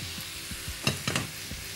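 Pasta with squid tossed in a pan: a short burst of soft sizzling with a few quick scraping stirs, close and unhurried, with no talking.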